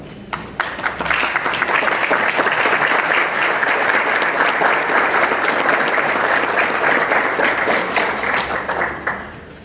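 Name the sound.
audience applause welcoming panelists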